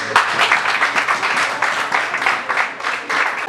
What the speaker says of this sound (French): Est-ce qu'on peut applaudir les dames d'honneur?